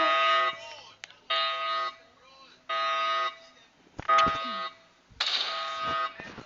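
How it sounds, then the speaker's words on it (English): A harsh electronic buzzer blares in repeated bursts, each lasting about a second with short gaps, loud and close, with brief clicks and knocks between. "It's so scary, that alarm."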